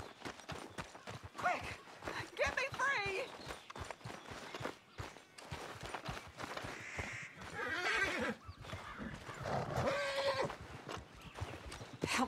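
A horse in the video game Red Dead Redemption 2 whinnies and snorts repeatedly while its hooves clip-clop in a steady walking rhythm, close and clear over light background sound.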